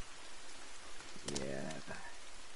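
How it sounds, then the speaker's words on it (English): Rain falls steadily in a forest with a soft, constant hiss, while a short burst of voice breaks in around the middle. "Oh, it's also raining."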